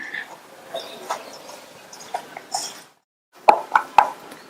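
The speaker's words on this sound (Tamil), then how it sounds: "கொஞ்சம் கொஞ்சமா சேர்த்து சப்பாத்தி மாவு பதத்துக்கு நல்லா திக்கா பிசைஞ்சுக்கணும்" Chapati dough being kneaded by hand makes soft, squishy slaps and presses, close and fairly quiet, then a short pause before a few sharper, louder pats.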